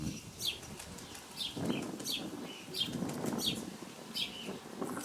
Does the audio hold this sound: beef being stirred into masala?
no